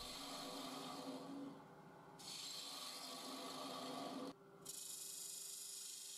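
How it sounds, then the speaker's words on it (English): Skew chisel paring the edges of a wooden mortise, a steady close rasping and scraping that continues in strokes with two brief pauses, no voices. "Using the skew there just to"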